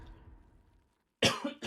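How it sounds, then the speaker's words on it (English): A person coughs sharply twice near the microphone, a harsh burst followed by a shorter second cough after a brief trailing sound and a moment of silence. "I can't stop coughing here."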